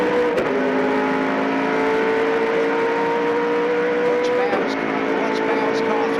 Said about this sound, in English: Johnson, listen to the roar of this Ford small block V8 as he gives it everything onto the front straight.